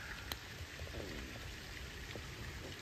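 Rain falls steadily as a constant hiss with occasional louder drops and taps, even and unbroken, no voices over it.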